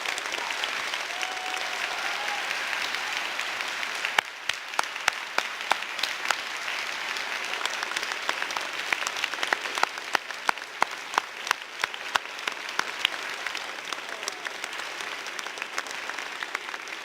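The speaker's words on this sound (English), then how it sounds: "I will ask everyone to give a huge round of applause to our honorable guest for generously accepting our invitation" An audience applauds guest Dr. Muhammad Yunus with a steady, moderately quiet wash of clapping, sharper individual claps standing out through the middle before it thins.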